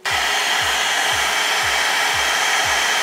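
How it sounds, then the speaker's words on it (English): A hair dryer blowing on a wig, a steady loud close whoosh that runs without break, with a faint low pulsing beneath. "blow dry it at the same time"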